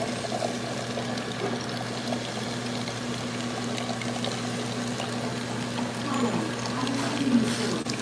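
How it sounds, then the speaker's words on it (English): A convenience-store coffee dispenser pours coffee into a cup in a steady liquid stream over a constant machine hum, with faint background store noise and no clear talk. "we're going to stir as it dispenses my coffee"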